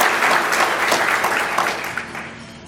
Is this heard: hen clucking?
no